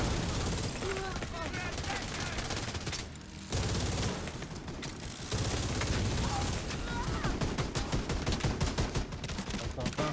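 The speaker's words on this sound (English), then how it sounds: "So in a way, I can keep my Gatling gun going" Gatling gun in The Division 2 firing long, dense sustained bursts at close range, with brief pauses and other game noise mixed in.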